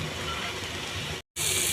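Chopped shrimp fry in a pan with slit chilies, chopped raisins and chopped cashews for a pointed gourd dolma filling, giving a loud, even sizzle that cuts out briefly near the end.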